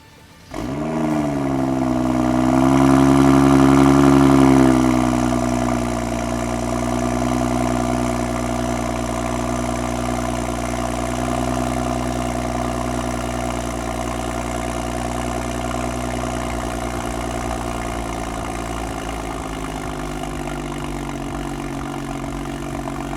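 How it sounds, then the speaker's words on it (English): BMW F30 with N55 engine and VRSF catless downpipe firing up from a cold start, a sharp crank and loud rev flare that settles into a steady, droning idle for about twenty seconds, recorded close with no talking. "I want to do the first startup, see how it sounds, cold start"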